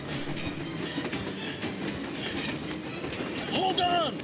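A train runs in Metro Exodus: a loud, continuous rumble and clatter of rail cars fills the scene while voices shout over it, and a brief rising squeal is heard toward the end.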